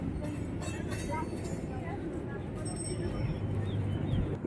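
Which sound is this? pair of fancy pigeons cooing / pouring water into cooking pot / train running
train running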